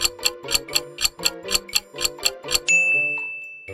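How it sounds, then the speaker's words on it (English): Sonic the Hedgehog Spin Dash effect from a retro video game: a rapid run of a dozen bright, even chiptune revving pulses, then a single sustained ringing release tone that fades out, loud and alone. "it's the sound from Sonic the Hedgehog's Spin Dash"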